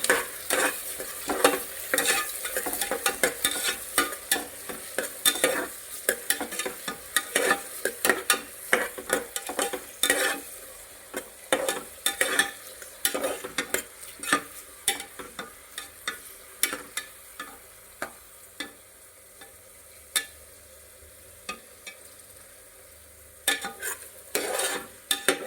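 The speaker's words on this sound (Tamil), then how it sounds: "ஆனியன் எல்லாத்தையும் ஆட் பண்ணோடனே அதை நல்லா மிக்ஸ் பண்ணி விட்டுக்கணும்." Onions fry with cumin in a pan for chole gravy, a spoon stirring and scraping in frequent uneven bursts over a steady close sizzle, with no voices.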